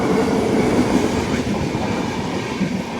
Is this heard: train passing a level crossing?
yes